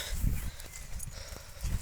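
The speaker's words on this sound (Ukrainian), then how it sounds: "Коні пасуться." A mare grazing outdoors in Ukraine moves about, with soft thuds of hooves on ground and low snorting sounds, faint and near.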